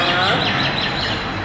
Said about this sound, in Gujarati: મેના